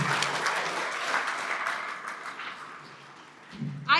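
A crowd at a wrestling hall of fame induction ceremony claps and cheers, strong at first then fading, with a brief voice near the end.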